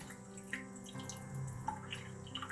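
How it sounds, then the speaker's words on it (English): A steady stream of water runs over a straight razor hone during sharpening, a continuous close splashing wash with a few brief drips. "we're going to up that water stream and work on the hydroplane effect."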